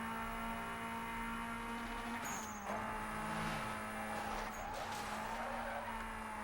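A car in Need For Speed Most Wanted on Xbox 360 holds a steady droning engine note while its tires squeal in two sharp skids, loud and close, with no voices.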